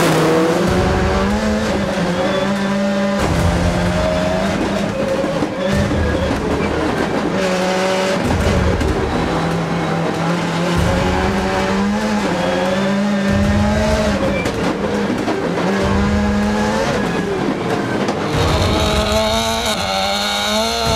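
A race car climbing the Mount Washington hill climb, its engine loud and close throughout, revving and shifting in repeated rising surges over about twenty seconds, with no talk.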